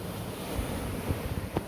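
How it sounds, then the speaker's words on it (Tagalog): Strong wind buffets the microphone in a steady roar on a rainy-season seashore, with surf washing in the background and a few dull knocks. "Lumalakas na yung hangin, no?"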